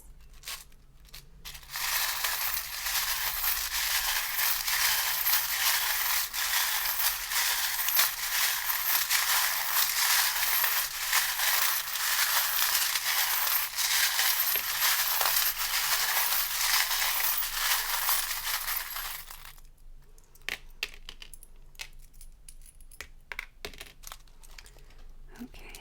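Charms and dice shuffled by hand, a long continuous rattling and clattering that holds steady and close for about eighteen seconds, then breaks into a few scattered clicks and taps, with no talk.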